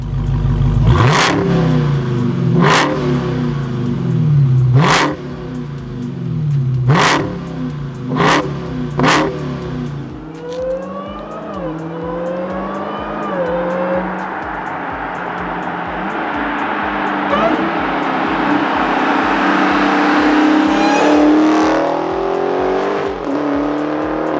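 A 2021 Dodge Charger SRT Hellcat Redeye Widebody with 797 horsepower opens with a series of sharp loud revs, then accelerates on the road through rising gears into a sustained roaring drone.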